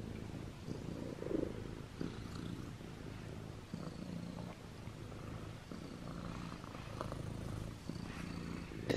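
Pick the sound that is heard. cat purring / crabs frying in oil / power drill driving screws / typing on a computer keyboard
cat purring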